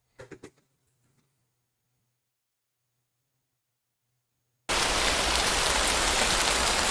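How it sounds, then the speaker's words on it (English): Steady, dense rain noise starts abruptly partway through and continues loudly to the end, after a few faint sounds and a stretch of near silence. "Okay, it's raining."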